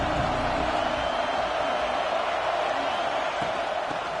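A large football stadium crowd roars as a steady, loud wash of noise with no breaks, dense and distant-sounding, with faint cheers and whoops within it.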